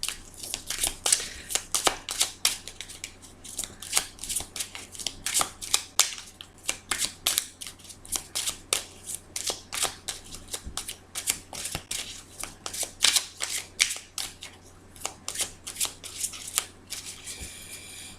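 Tarot cards shuffled by hand for a reading, a long run of quick, crisp riffling snaps and slaps in close, irregular bursts, with no voices.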